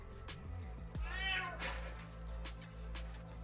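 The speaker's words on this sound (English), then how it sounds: "anytime I start talking, my cat has to start talking" A house cat meows close by indoors, with one drawn-out, wavering call followed by a few shorter vocal sounds against a quiet low hum.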